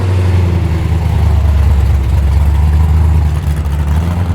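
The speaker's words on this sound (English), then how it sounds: "Belair, that's one sick beast, listen to that." A 1955 Chevy Bel Air arriving at a Sydney car show idles with a loud, close, deep rumbling engine note, steady and throaty with slight pulsing throughout.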